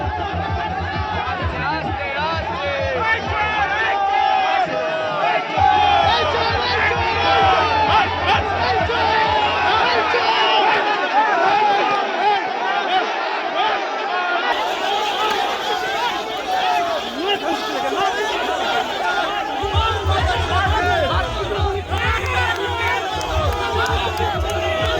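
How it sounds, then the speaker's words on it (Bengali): An agitated crowd at a protest against a former MLA in Panihati, loud massed voices shouting and chanting over one another in a continuous roar, with a pounding DJ beat underneath at times. "দেওয়া হয় চোর চোর স্লোগান।"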